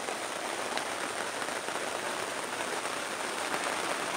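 Steady rain falls outdoors, a dense, even hiss of drops on surfaces that holds constant and fairly loud from start to finish, with no voices.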